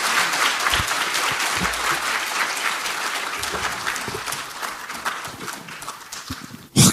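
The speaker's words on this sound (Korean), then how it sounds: "큰 박수 부탁드립니다." Audience applause at a Democratic Party new-member academy event in Korea, a dense, sustained clapping that holds steady for several seconds and cuts off abruptly at the end.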